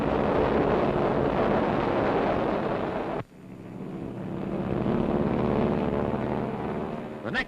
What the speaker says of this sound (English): Another B-25 to join the formation circling over the task force